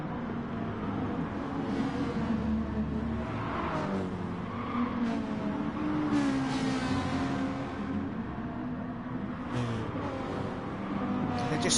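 Race cars lapping Spa in a racing video game, Toyota, Ferrari and Chevrolet battling for seventh, engines droning and revving steadily throughout with occasional tyre skids, a continuous dense roar with no pauses.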